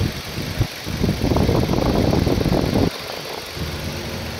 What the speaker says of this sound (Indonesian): Bisa dengar sendiri suara irama mesinnya ya.